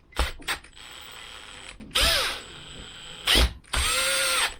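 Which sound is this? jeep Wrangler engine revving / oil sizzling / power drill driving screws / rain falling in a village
power drill driving screws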